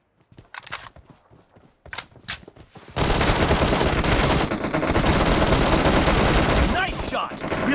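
Gunfire in the mobile game PUBG Mobile: a few scattered shots and clicks, then a sudden loud sustained burst of rapid automatic fire that continues dense and close.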